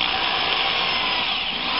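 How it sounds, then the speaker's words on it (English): A hole saw grinds steadily through PVC, a loud, continuous rasping drone that holds for the whole moment with no pauses. "take a hole saw and drill a hole in here"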